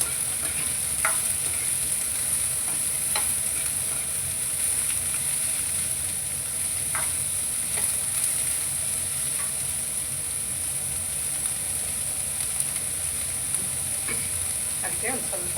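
Onions frying in a pan and being stirred until lightly browned: a steady loud sizzle with intermittent scraping strokes of a spoon, close up, with no talking.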